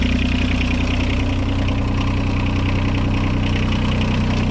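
An excavator's engine idles steadily just after starting on a new battery, a close, even diesel rumble with a light knocking patter and no speech.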